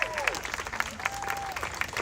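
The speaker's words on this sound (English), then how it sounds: "Can I get a round of applause for everyone who has showed up, masked, sexy, just looking great." Scattered applause and whoops from an outdoor crowd at a street rally before a march, fairly faint, with intermittent claps and cheering shouts rising above the background.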